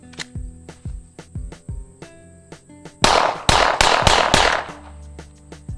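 A semi-automatic pistol loaded with Pyrodex black powder fires a rapid string of about five loud, sharp shots in quick succession, following earlier lighter clicks and clatter.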